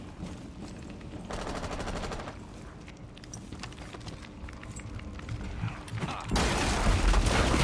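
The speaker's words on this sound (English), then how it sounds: "Remember, they don't have guns, so we could shoot them." Video game gunfire with repeated shots and mechanical clatter runs continuously through a containment-event game scene, steady and fairly loud, then grows denser and brighter near the end.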